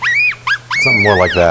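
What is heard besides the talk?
baby yellow-bellied marmot screaming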